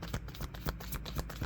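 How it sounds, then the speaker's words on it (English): Tarot cards are shuffled by hand in a quick series of soft riffling bursts, close and fairly quiet, with no talking over them. "One more shuffle"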